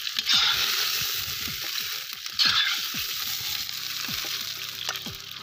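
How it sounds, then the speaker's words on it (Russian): Pork ribs fry in a pan for a Polish bigos in a village kitchen: a loud, steady sizzle and crackle fills the scene, with intermittent scraping and stirring taps close by. "Обжариваем ребрышки."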